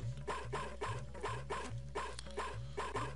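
A dog barking in the game Mother 3: a rapid, steady series of short, evenly spaced bark-like blips, about eight in three seconds, over a constant low hum.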